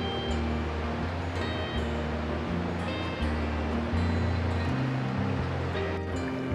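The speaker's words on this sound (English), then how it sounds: "Here's a little waterfall that empties into the Caney Fork River." A small waterfall spills over a shallow cave into the Caney Fork River beside a wooded trail, making a constant broadband rushing roar, fairly close and steady throughout.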